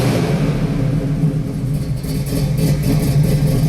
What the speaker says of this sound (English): I like starting them all up cold because everybody wants to hear them cold.